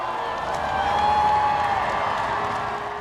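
A crowd shouting and cheering at a royal occasion, a dense, steady roar of many voices close by with no single voice standing out.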